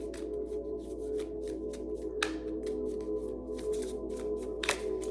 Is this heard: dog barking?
no